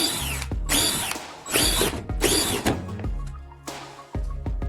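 A power drill bores holes into timber in several loud, close bursts of whining spin, separated by brief pauses.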